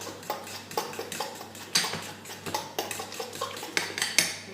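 A spoon stirs a loquat fruit tart mixture in a bowl, making repeated clinks and scrapes against the side in a quick, irregular rhythm, close and alone.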